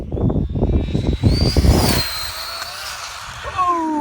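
A Traxxas Slash short-course RC car being pushed toward 100 mph makes a high-speed pass, its electric motor whine rising in pitch and loudness as it approaches, then trailing off, with a brief tonal whir at the end.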